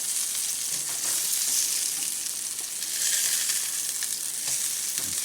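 Rainbow trout fry in a hot pan, making a loud, continuous close-up sizzle that swells slightly partway through, with no talking.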